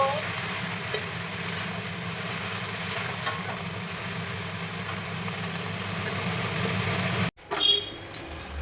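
Spice masala frying for a Bengali fish curry in a home kitchen, a soft continuous sizzle with a low steady hum beneath and occasional faint clicks, cutting off abruptly near the end before a brief stir.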